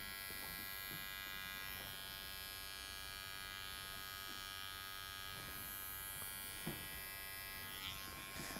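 Electric hair clippers buzz steadily close by while shaving a customer's neck in a barber shop, a constant high electric drone with faint handling noises and no talk.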